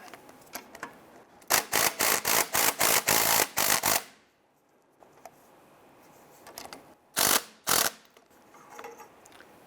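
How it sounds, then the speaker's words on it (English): Ratchet with a 15mm socket working the clamp on a tie rod adjusting sleeve of a 1999-2004 Jeep Grand Cherokee, heard as a rapid run of about ten sharp clicks, then two more bursts later, close and loud with no talk. "I'm going to use our 15mm socket to loosen this clamp."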